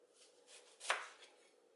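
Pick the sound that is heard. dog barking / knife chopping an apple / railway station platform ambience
knife chopping an apple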